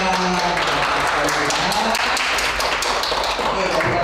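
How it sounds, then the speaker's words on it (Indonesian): Audience clapping in an Indonesian teachers' good-practice sharing session, loud continuous applause with talk mixed in throughout. "Tepuk tangan."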